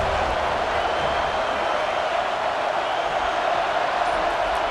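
A stadium crowd roars steadily in the EA Sports College Football 26 video game, a dense, continuous wash of cheering at a constant level throughout.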